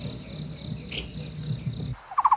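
Insects chirp and birds call in a shaded forest along a hiking trail at Lion's Head Mountain, a steady dense buzz of chirping that drops away near the end, followed by a short run of sharp, repeated calls.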